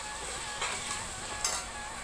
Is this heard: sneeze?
no